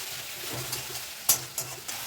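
Spices frying in oil in a pan for a baby banana curry, a quiet soft sizzle with a few sharp scraping stirs of a spoon, no talking.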